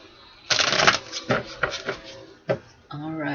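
Cards riffle and snap in several quick bursts, separated by brief pauses, close to the listener.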